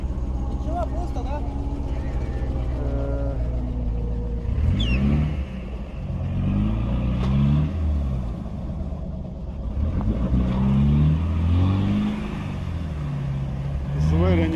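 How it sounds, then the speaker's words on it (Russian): A Land Rover Defender 4x4 off-roading revs its engine hard in repeated rising and falling surges, loud and close, with people talking over it. "серьезный внедорожник."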